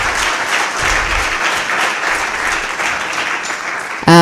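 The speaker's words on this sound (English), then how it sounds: "another very big round of applause for my panelists for the last time" Audience applause at a G20 youth dialogue panel event, a steady dense clapping from a large crowd that holds evenly throughout and swells slightly louder at the very end.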